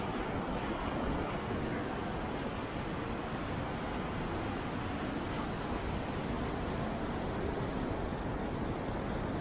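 Steady broadband rush of a river where people are rafting, continuous and fairly loud with wind buffeting a small action camera; no distinct voices stand out.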